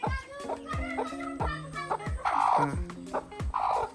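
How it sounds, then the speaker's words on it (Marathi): A farmyard hen clucks in repeated short calls with a few louder squawks, close by, while children's voices chatter in the background. "ही कोंबडी आहे चांगली कोंबडी"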